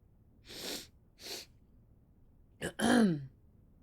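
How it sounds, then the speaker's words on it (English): Two soft sharp inhalations are followed by a single loud sneeze with a quick catch of breath just before it, close and isolated in a quiet room. "I'm gonna sneeze."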